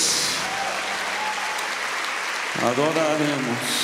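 Congregation clapping in a church during worship, a steady dense wash of applause throughout, with a voice rising over it near the end.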